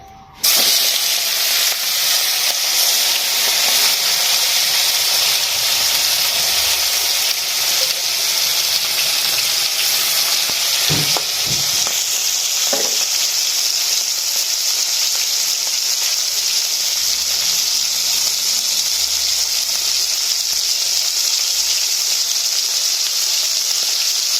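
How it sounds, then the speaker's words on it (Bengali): Prawns coated in salt and turmeric fry in a pan, giving a loud, continuous close hiss that flares as they go in and holds steady, with a few clinks of stirring midway. "মাছটা একটু ভেজে নিতে হবে"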